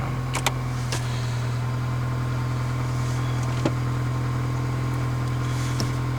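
A car engine idles steadily after a cold start on a snowy day, a close, constant low rumble with a faint ticking from the power steering pump pulley and a few small clicks over it.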